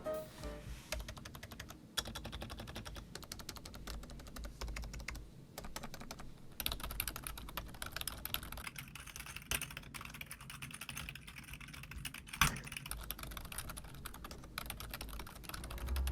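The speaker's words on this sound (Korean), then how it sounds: "그럼 타건음 한번 들어보실까요?" Continuous, fairly quick typing on a Logitech Wave Keys ergonomic membrane keyboard, with soft, muffled key clatter going on steadily throughout and no talking.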